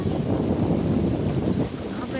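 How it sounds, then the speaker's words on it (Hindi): Sea waves wash in at a seaview shore, a rough continuous rush and churn up close, buffeted by wind noise on the microphone, with a brief dip near the end. "यहाँ पर जो है काफ़ी ज़्यादा पानी की लहरें आ रही हैं।"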